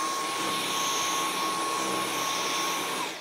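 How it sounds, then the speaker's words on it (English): Vacuum cleaner running steadily in a Lego room, a loud continuous close whine and roar with a faint high tone, slowing slightly at the end. "Just let me vacuum my entire Lego room."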